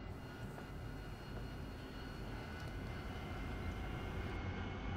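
An AV-8B Harrier jet in DCS World roars at takeoff, a steady, dense wash of engine noise that holds level and builds slightly toward the end, with no voices.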